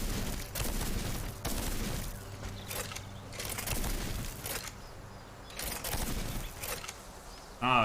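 A heavy gun fires in the video game Steelrising, loud repeated booming bursts separated by short gaps, with mechanical clatter between shots.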